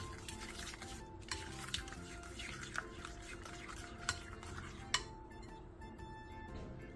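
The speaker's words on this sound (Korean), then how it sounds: "통깨를 넣고 골고루 섞어 양념장을 만들어주세요." Sesame seeds being stirred into a seasoning sauce of vinegar and sesame oil in a bowl, with soft repeated scraping and clinking of a utensil against the bowl and a few sharper taps, close and fairly quiet.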